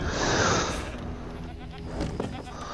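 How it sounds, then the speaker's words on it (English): A short burst of bleating from a sheep in the video game Original Sin 2, fairly close, with voices talking over and after it. "Sounds like you're a sheep."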